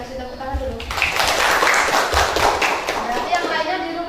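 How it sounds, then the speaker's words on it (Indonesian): A classroom of pupils claps for a classmate, a burst of scattered, lively applause lasting about three seconds, with a teacher talking just before it. "Kita kasih tepuk tangan dulu."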